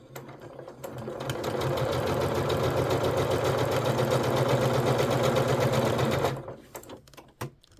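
A sewing machine stitches a quick line on quilt fabric, starting up and running in a steady, close, rapid mechanical whir for about five seconds before stopping, followed by a few small clicks.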